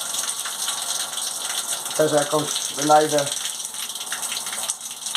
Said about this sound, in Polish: Woda przepływowa.